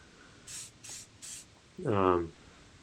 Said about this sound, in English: hit it with this spray and it'll stop it from rusting away